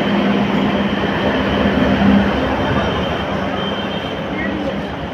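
A crowded passenger train traveling between New Jalpaiguri and New Bongaigaon rumbles steadily from inside the carriage, with a dense, continuous roar and faint murmuring voices of passengers beneath it.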